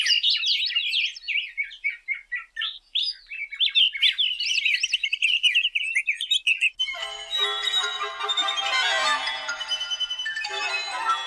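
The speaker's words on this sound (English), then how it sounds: "he tries to notate and orchestrate the birdsong as precisely as he can using high register instruments" Messiaen's birdsong, orchestrated for high-register instruments, opens with twittering, darting high figures. A denser, shimmering tinkle of high instruments follows, bright and close.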